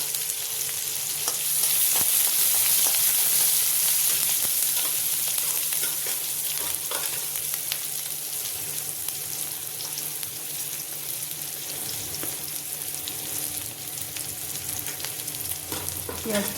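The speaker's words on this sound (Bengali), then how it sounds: "পেঁয়াজটা তো বেশি ভাজবো না, হালকাই ভেজে নিলাম।" Chopped onion and green chili fry in hot oil with cumin for oats khichdi, a loud steady sizzle with occasional stirring scrapes that carries on unbroken, close up and without talk.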